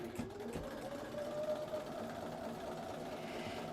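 A sewing machine stitches along a marked line on holiday placemats, giving a fast, steady mechanical whir with a humming motor tone, close and uninterrupted for a few seconds.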